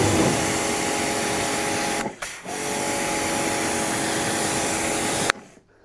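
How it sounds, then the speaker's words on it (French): Kärcher pressure washer spraying a Michelin tire to rinse off foam, a loud steady hiss of water jet with one brief interruption, then cut off near the end. "Un dernier coup de Karcher ici parce que de la mousse qui est revenue ici derrière."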